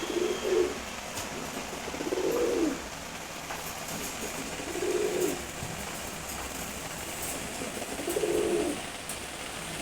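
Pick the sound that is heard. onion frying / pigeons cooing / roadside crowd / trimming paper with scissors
pigeons cooing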